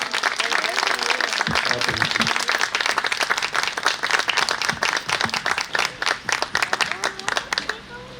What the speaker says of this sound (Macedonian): Уште еден посилен аплауз за Марија.